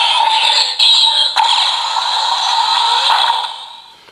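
Electronic chime and effect sounds from a Kamen Rider Vrastum Gear toy transformation belt as a Gochizo piece is pressed on top, bright and continuous with a couple of clicks, fading out at the end.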